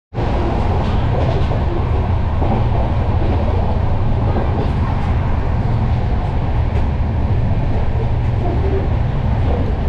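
A passenger train in India running on rails with its windows and doors open, a loud, steady rolling rumble and rattle of wheels and carriages that begins abruptly and continues throughout at close range.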